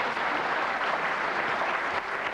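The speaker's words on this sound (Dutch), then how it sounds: "applaus mag er zeker komen." Studio audience applauding on the Dutch TV game show Wie van de Drie, a brief, dense burst of steady clapping from a full crowd, loud and even with no talk over it.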